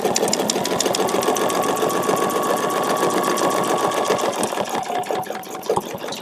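A sewing machine stitches around a feather-leaf quilting template, its needle ticking in a fast, steady close-up rhythm that slows and stutters near the end as stitching eases off.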